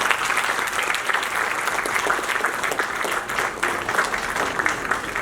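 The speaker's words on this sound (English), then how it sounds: "Can we have a huge round of applause," Dense, continuous applause from a large audience at an Oxford-style debate event, steady and loud throughout with no breaks.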